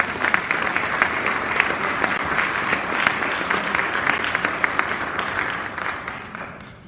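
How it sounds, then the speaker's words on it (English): A podcast audience in Indianapolis welcomes guest filmmaker Dr. Delaney Ruston with sustained applause, many hands clapping in a dense, close burst that stays strong throughout and tapers slightly at the end. "please join me in applause for welcoming our guest"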